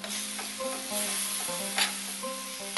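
Minced lamb sautés with onions and a spice paste in a pan, sizzling steadily at moderate level. Intermittent spoon scrapes and clinks against the pan come through, with no speech.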